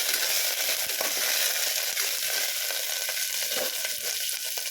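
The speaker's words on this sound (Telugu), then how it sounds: "పచ్చిమిర్చి కరివేపాకు వేసి ఇవి కూడా ఒకసారి ఫ్రై అవుతాం" Green chillies and curry leaves frying in hot oil for a poori curry, a steady, close, continuous sizzle with faint crackles throughout and no talking.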